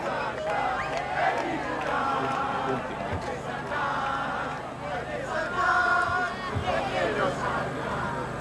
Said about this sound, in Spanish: Cánticos, algunas silbatinas, esperando para que el tribunal apure el comienzo de la lectura.